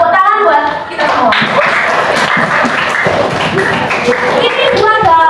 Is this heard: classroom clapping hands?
yes